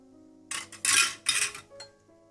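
A metal spoon clinks and scrapes against a bowl in three quick bursts as spices, salt, kasuri methi and oil are mixed together for chicken and potato bake, close and clear.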